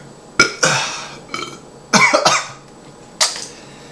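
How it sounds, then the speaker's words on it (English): Short, throaty burp-like bursts after eating a chocolate-coated scorpion, four separate close eruptions spaced unevenly over a few seconds, the loudest pair near the middle. "It made me burp."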